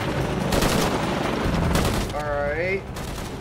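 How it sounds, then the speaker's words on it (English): Gunfire during a Shadow of the Tomb Raider fight, heavy repeated blasts that could be a shotgun, loud and dense, with a brief spoken word near the end. "And shotgun. Shotgun to the face."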